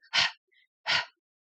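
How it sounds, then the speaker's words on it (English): Two sharp, close breaths are drawn in by a singer during an a cappella cover, separated by a short pause, each one airy and clearly audible against silence. "I want you to listen to the sound of your breathing"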